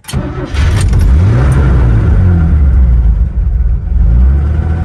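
A manual stick-shift car's engine starts, then runs loud and close at a steady low rumble that dips and swells as the clutch is eased out, with no talking over it.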